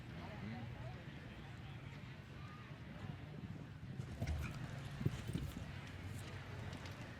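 Hooves thud on the arena footing as a horse gallops around a show jumping course, muffled under steady crowd and arena noise, with a few louder strikes near the end.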